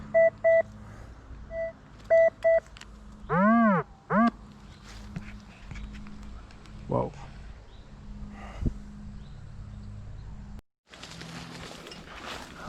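A metal detector gives electronic beeps in short repeated bursts, a few clear tones early on, followed by rustling and movement outdoors in a forest with a person speaking.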